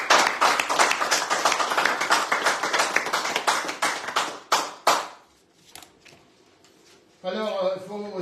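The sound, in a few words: applause from the bistro audience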